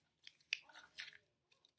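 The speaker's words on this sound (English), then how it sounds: "So I'm wadding and crumpling," Torn paper is wadded and crumpled by hand for a craft project, giving a few short, close crinkling bursts separated by quiet pauses, soft overall.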